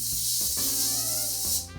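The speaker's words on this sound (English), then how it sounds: "I'm going to do is spray those with some cooking spray" Cooking spray hisses from an aerosol can onto two foil-lined baking trays in a home kitchen, one continuous close, bright spray lasting under two seconds before it cuts off.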